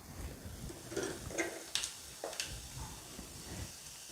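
Half a spoon of cumin seeds hits about two spoons of hot oil in a home kitchen pan, giving a faint, soft hiss broken by scattered small crackles and pops.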